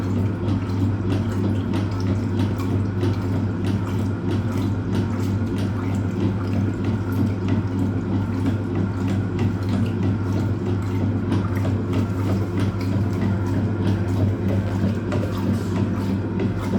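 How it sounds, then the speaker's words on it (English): Rinse water runs steadily inside a Hoover Automatic 820 washing machine, a constant close watery rush over a low motor hum with no speech. "Show you how good the rinse is on this machine."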